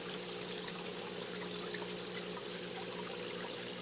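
Steady water flows from a shower filter with small brushes down into a quarantine fish aquarium, a continuous even trickling wash with no pauses, fairly quiet and unaccompanied.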